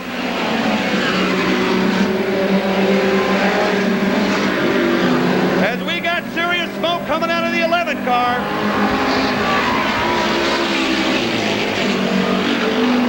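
Midget race cars scream around the Belleville dirt track with continuous loud engine roar, and a higher whining pass swells in the middle. An announcer talks over the noise throughout.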